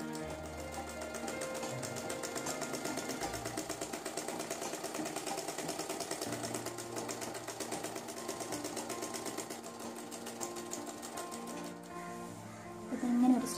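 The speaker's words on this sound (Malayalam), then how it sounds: "എന്നിട്ട് ഈ നടുക്ക് കൂടി ഒരു സ്റ്റിച്ച് കൊടുക്കുവാണ്." A sewing machine stitches elastic onto an umbrella skirt, running as a steady, continuous motor hum with rapid needle ticking throughout, close and alone with no talk.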